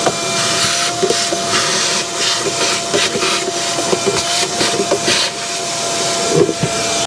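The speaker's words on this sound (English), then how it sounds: "We're going to use a shop vac because I've got one handy here." A shop vac sucks dirt and debris out of the engine air filter housing of a Toyota RAV4, giving a loud, continuous whooshing roar with slight fluctuations as the nozzle moves.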